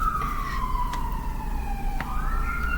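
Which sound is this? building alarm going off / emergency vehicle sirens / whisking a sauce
emergency vehicle sirens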